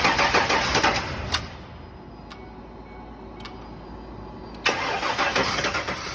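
A Ford Ranger engine cranks hard but fails to catch: a loud burst of starter churning, a long quieter stretch with a few faint ticks, then another loud cranking attempt near the end.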